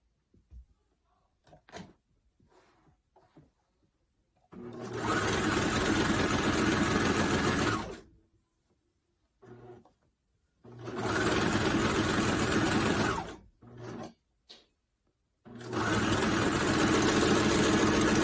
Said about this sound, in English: when you're serging, you want to make sure to leave a nice long tail from your machine